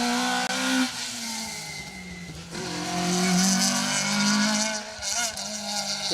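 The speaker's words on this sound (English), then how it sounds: "56 is Jonathan Davis and Sean Rowland in the Peugeot" A Peugeot rally car on an asphalt stage at Rally Ceredigion, its engine note rising and falling steadily as it passes at a distance, with a broad continuous roar and some tire noise, heard on its own without talk.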